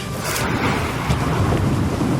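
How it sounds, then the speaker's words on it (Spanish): A storm sound effect of heavy rain and rolling thunder fills the scene with a dense, continuous roar, loud and close, with low rumbles under the steady downpour and no voices. "se desató una tormenta tan fuerte que las olas se metían en la barca"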